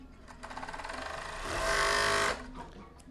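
A sewing machine stitches a side seam on children's clothing. Close, rapid needle chatter speeds up into a louder continuous whir in the middle and then slows back down.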